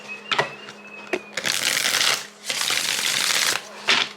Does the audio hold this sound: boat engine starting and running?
no